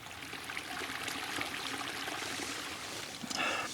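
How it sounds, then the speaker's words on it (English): A river flows past a wild camping spot in the Mourne Mountains, giving a soft, steady rushing of water that stays faint and unbroken. "Right down on the river."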